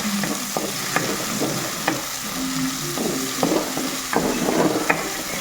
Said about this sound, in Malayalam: ആദ്യം ഇഞ്ചി ചേർത്ത് പിന്നെ വെളുത്തുള്ളി പിന്നെ ഉള്ളി പച്ചമുളക് ഇത്രയും ആദ്യം ഇട്ടിടുക നന്നായിട്ടൊന്ന് മിക്സ് ചെയ്തിട്ട്